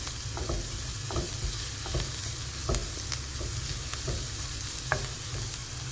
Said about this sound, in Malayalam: ഇനി ഇതൊന്ന് ഒരു ലൈറ്റ് ബ്രൗൺ കളർ ആകുന്നത് വരെ നമുക്ക് വഴറ്റാം